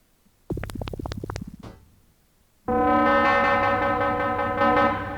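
A gritty, buzzing FM synthesizer bass: a short run of choppy pulsing notes, a brief pause, then a loud sustained harmonically rich growl that holds to the end.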